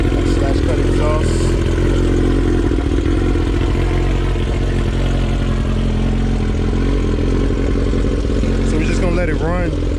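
A Suzuki GSX-R1000 K4 sport motorcycle with a slash-cut exhaust runs steadily at idle with a rough, throaty exhaust note, with a voice speaking over it throughout.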